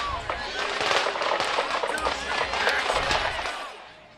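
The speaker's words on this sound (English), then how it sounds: "Our microphones recorded gunfire nearby just as the celebration ended at Union Station" Rapid bursts of gunfire crack out near Union Station in Kansas City as a Chiefs victory parade rally ends, a dense, loud popping volley lasting several seconds amid crowd noise.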